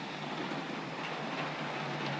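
Steady rumbling roll of Midland Pullman model train cars on track, a continuous close whir with faint clicking, no voices.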